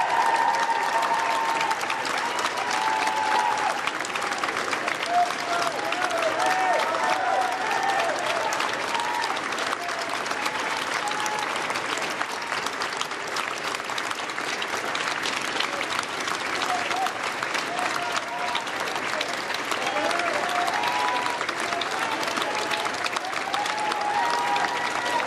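A long, unbroken wave of indoor applause greets the new Prime Minister, Andy Burnham, inside 10 Downing Street, dense clapping holding at an even, loud level throughout, with faint voices mixed in.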